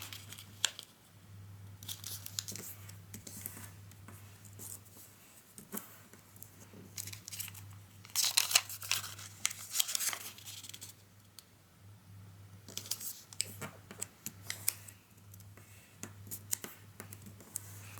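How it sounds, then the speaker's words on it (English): Origami paper for a butterfly is folded diagonally, making soft, close crinkles, creases and rustles in scattered bursts over a low steady hum, with no talking. "So first we're going to fold diagonally"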